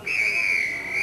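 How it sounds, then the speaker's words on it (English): At a 1993 Bath versus Gloucester rugby union match, the referee's half-time whistle sounds as one sustained, piercing blast lasting about a second over crowd noise. "the line-out not taken as the half-time whistle goes"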